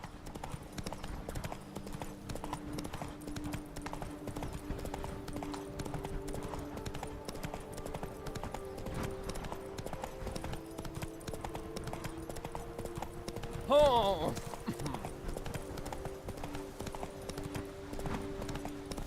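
Steady clip-clop of horse hooves in the video game The Witcher 3: Blood and Wine, with a brief louder whinny-like burst near the end over a constant background hum.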